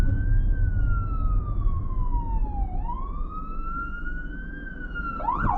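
A fire truck siren wails in a long rising and falling sweep, with road noise from inside a moving car in Canada, loud and steady before fading slightly as it passes.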